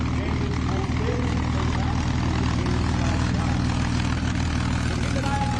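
A propeller airplane performs at the Wasatch Air and Space Show in Utah, droning steadily and loudly throughout while a commentator speaks over the engine noise.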